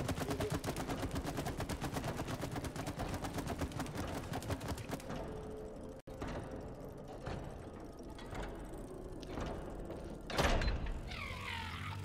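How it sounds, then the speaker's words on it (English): A door handle being spun to open a door in the video game It Takes Two, a rapid, loud ratcheting clatter of mechanical clicks that gives way to scattered clanks and a sharp metallic hit near the end. "Spin the handle to open it"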